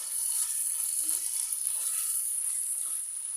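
Ginger and garlic paste frying in hot oil in a pan, a steady thin sizzle that holds evenly throughout, alone without speech.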